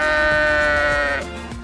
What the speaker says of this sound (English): Normally when I encounter sheep, they run off.